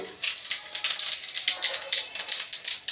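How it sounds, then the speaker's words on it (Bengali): Bay leaf and whole cumin seeds sizzle and crackle in hot oil, a close, steady hiss broken by bursts of sharp popping, with no voices. "আমি এর মধ্যে ফোড়ন দেব, তেজপাতা, ফোড়ন দেবো জিরে, গোটা জিরে"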